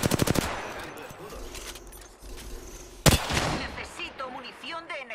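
Enemy gunfire in the Apex Legends video game: a rapid burst of shots at the start, quieter battle noise, then a sharp loud shot followed by further firing and game sounds.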